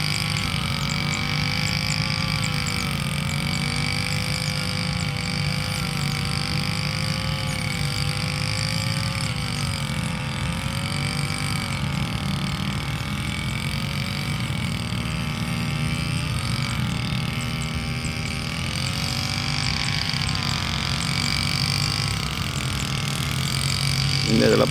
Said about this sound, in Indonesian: itu adalah suara bunyi mesin di mana melakukan pemotongan pada